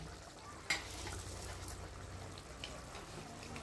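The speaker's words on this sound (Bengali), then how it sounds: "চাটনিটা একটু ফুটে এসেছে" Momo chutney bubbling in a pan, a faint, steady hissing simmer with one small sharp click near the start.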